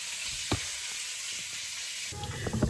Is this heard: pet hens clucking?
no